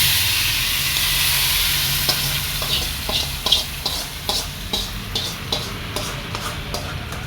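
Hot curry leaf tempering poured into a mango curry, a loud sizzle that settles into softer crackles with light ticking stirs, no talking.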